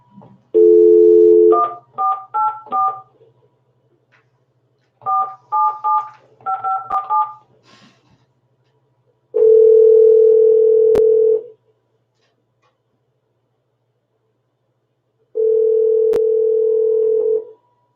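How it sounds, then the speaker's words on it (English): A telephone keypad beeps out a quick series of dialing tones, then two long, loud ringing tones follow with silence between them, and nobody picks up. "Nobody's answering the phone."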